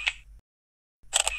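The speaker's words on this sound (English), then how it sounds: "Finish the shot at any time by pressing the shutter button again." Samsung Galaxy Camera shutter sounds twice, a short sharp click followed after a brief silence by a second, busier clicking burst, close and crisp.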